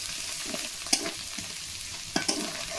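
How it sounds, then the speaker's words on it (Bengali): Cumin paste being stirred into a frying prawn malaikari of large freshwater prawns, with a low steady sizzle and a few sharp spatula scrapes against the pan, close by. "এখন দিয়ে দেবো এর ভিতরে আমি জিরে বাটা, জিরে বাটাটা ভালো করে মিশিয়ে নেব।"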